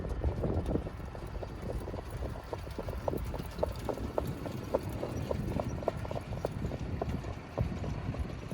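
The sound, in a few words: horses trotting at Vernon Downs harness racetrack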